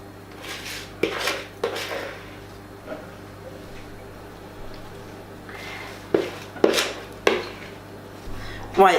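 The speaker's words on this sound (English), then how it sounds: "we're now going to add the cake mixture evenly into our 2 tins. So a scoop at a time" Cake mixture for a simple Oreo cake being scooped into two cake tins, with clinks and scrapes of a utensil against metal tins in scattered bursts, close by, with quiet gaps between them.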